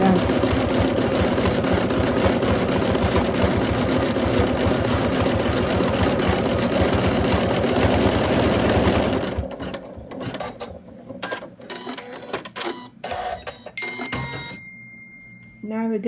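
An embroidery machine stitches an in-the-hoop Santa doll with a loud, dense mechanical chatter for several seconds, then stops, leaving scattered clicks and clatter of handling.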